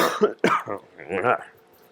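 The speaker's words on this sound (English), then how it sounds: "I hate this cough." A couple of short coughs and throat-clearing sounds, close and fairly loud, mixed with a bit of voiced breathing.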